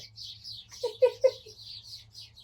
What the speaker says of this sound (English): The sparrows have landed.